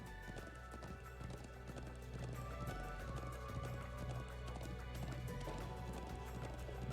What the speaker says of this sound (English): I'm glad I still remember how to ride a horse.